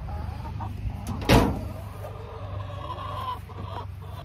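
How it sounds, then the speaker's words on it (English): A broody Buff Orpington hen gives a few soft clucks close by, with one sharper, louder call in the middle, over a steady low background hum. "Let's see if our Buff Orpington here is still being Miss Broody Girl."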